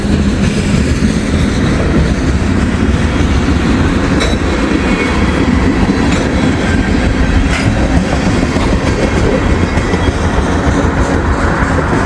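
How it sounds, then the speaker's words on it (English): A freight train hauling lumber cars rolls past close by, producing a loud, continuous rumble with rhythmic wheel clatter and occasional metallic squeals. No voices are heard. "There's the end of the train."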